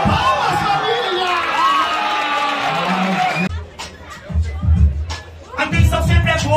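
A street rap battle crowd roars, whoops and cheers loudly, then breaks into rhythmic clapping and shouting close by.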